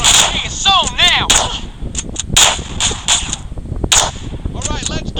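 Gunshots in GTA San Andreas ring out loud and close, a scattered series of sharp cracks mixed with other game effects, with no talking heard.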